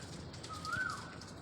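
Racing pigeons give a single soft, low coo at a moderate distance against a quiet background.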